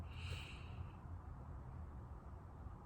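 One slow, quiet deep inhale through the nose, close and soft, against a faint low background hum.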